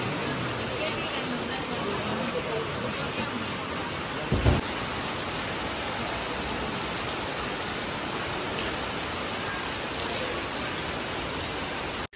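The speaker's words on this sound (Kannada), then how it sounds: "It's raining, you know." Steady, dense rain falls outdoors near the Yana caves and Vibhuti waterfalls, a constant close hiss with a single brief knock partway through.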